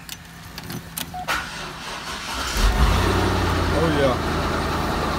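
A C5 Corvette's engine cranks and catches after a battery charge, then settles into a steady idle rumble, with a man's brief exclamation over it.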